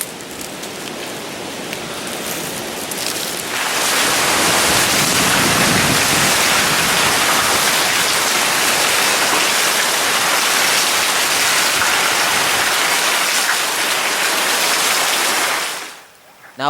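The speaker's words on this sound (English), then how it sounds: "The weather is now windy, and soon rain will arrive." Heavy rain pours down steadily on an island at the start of the wet season, a dense, loud, continuous hiss that swells in after a quieter windy start and cuts off abruptly near the end.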